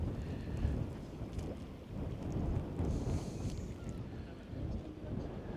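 Gusty wind buffets the microphone outdoors by the water in Scotland at sunset, a continuous low rumbling roar with uneven surges, fairly loud with no voices.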